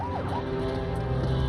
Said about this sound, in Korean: 도로에 차량이 많지 않지만 사이렌을 울려본다